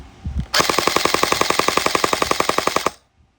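Gel blaster toy gun firing full auto: one rapid, even burst of about two dozen sharp cracks lasting over two seconds, close and loud, then abrupt silence.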